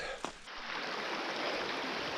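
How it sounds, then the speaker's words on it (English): A creek runs past a camp spot in Idaho, a steady broadband rush of flowing water heard close and continuous, with a brief knock near the start and no voices. "a really nice creek here"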